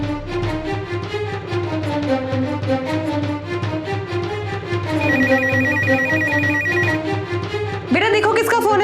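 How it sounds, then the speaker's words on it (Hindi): A melodic electronic ringtone plays loudly and repeats its tune, with a brief higher chime near the end; no voices over it. "बेटा देखो किसका फोन है?"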